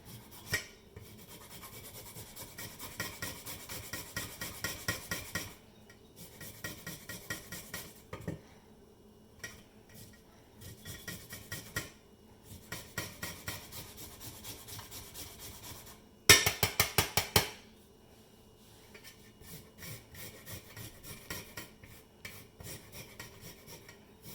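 Ginger being finely grated on a metal grater, a soft rhythmic rasping in repeated strokes with pauses between runs and one louder, faster burst near the end, quiet and close.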